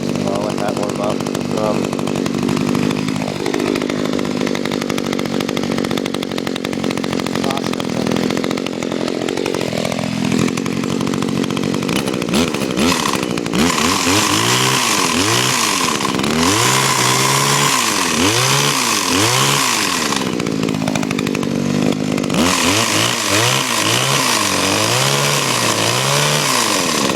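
A Husqvarna or Stihl chainsaw engine runs steadily while warming up after refuelling, a loud continuous buzz close by with repeated revs rising and falling in the second half.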